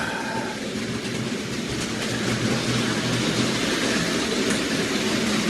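An OO gauge model train rolls steadily along its track, giving a continuous close rattling hum with no pauses.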